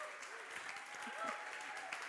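An audience at a startup demo day livestream applauds, steady mid-level clapping for about two seconds with a faint cheer and a voice behind it.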